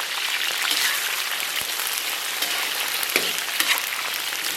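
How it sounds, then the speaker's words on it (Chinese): Scallion and ginger hit bubbling caramelized rock sugar in a wok, giving a steady, close, rain-like sizzle with a few faint clinks and stirs scattered through it. "葱姜给它下里边"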